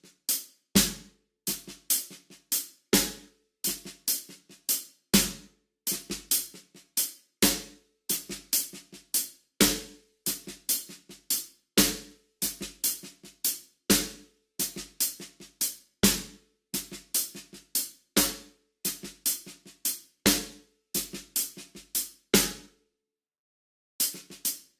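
A drum kit plays a quintuplet shuffle hand pattern of alternating right and left strokes with accented unison hits, a steady stream of crisp cymbal and snare notes over about twenty-five seconds. It stops briefly near the end.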